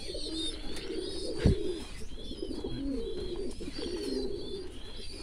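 Hungry ornamental pigeons in a Vietnamese backyard loft cooing repeatedly in low throaty rolls, several birds overlapping at close range, with a sharp thump partway through.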